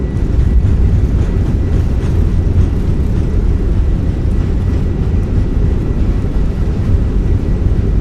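Fenix A320 airliner thrust reversers deployed during landing in Microsoft Flight Simulator: a loud, steady, deep roar that holds without pause for the whole stretch.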